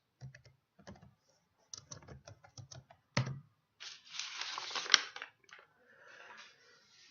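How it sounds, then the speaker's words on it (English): Keys tapped on a computer keyboard while searching a library catalog, quiet clusters of clicks in short bursts followed by a soft brushing rustle and a sharp click near the end. "Type in the author's last name first in order to get the best results."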